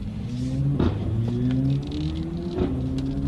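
A Mercedes-AMG car's engine hums steadily nearby as it drives past, with a low rising drone and faint rustling.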